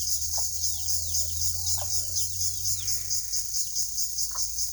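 A hen with her chicks on a farm clucks in short low bursts while thin, high peeping calls repeat nearby, over a steady insect-like whine and a low hum in the first part; no voices.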